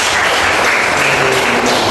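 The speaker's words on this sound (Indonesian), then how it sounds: "luar biasa tepuk tangan" Classroom applause from a group of students in a history lesson, a dense steady patter of clapping filling the whole short stretch at close range, with no talk over it.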